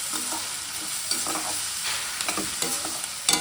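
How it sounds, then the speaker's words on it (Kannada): Chicken masala with turmeric fries in a pan for a dhaba-style gravy, with a steady close sizzle and quick scraping stirs of a spoon against the pan. "ಫ್ರೈ ಆಗಕ್ಕೆ ಬಿಡೋಣ."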